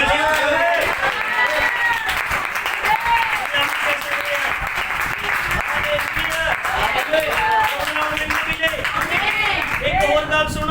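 Church congregation applauding during a Punjabi-Hindi sermon, a dense continuous wash of clapping hands that holds steady throughout, with a preacher's voice speaking over it.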